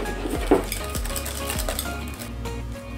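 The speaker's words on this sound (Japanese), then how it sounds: "ここでさらにしっかり混ぜて滑らかな状態にします" Melted butter and chocolate stirred thoroughly into a chocolate financier batter in a bowl, giving continuous close scraping and swishing with occasional light clinks against the bowl.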